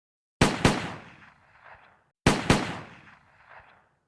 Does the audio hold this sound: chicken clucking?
no